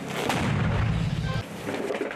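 A heavy, muffled boom from a nearby mortar firing near Bakhmut rolls out into a rumbling, noisy tail, with wind and outdoor noise underneath.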